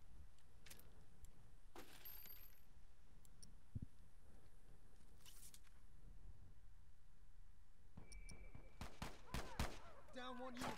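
Rapid gunfire bursts from The Last of Us multiplayer, a loud cluster of sharp shots late on over a steady game ambience, with scattered clicks and a voice earlier.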